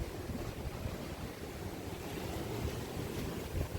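Strong wind buffets an outdoor spot in Andalusia, a steady broadband roar with rumbling gusts on the microphone, continuous and fairly loud with no voices.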